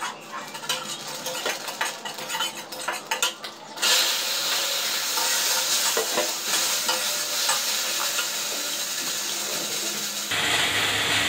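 Black cumin seeds sizzle loudly in hot oil in a pan at home, with a spoon stirring and scraping. A sudden surge of frying hiss builds near the start and holds steady to the end.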